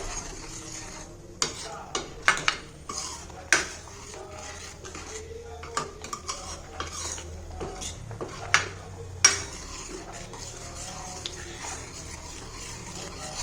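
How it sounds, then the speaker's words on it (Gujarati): Homemade tomato ketchup stirred in a pan over medium-high flame, a spoon scraping and clinking against the metal in irregular strokes, with a soft sizzle and bubbling underneath. "મીડિયમથી હાઈ ફ્લેમ ઉપર જ આવી રીતના હલાવતા રહેશું અને કૂક થવા દેવાનું છે"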